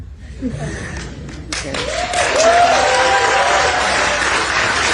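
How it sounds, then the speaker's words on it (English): Audience applause at a film event, building to a dense sustained wash of clapping after a quieter opening, with some voices mixed in. "Pretty applause."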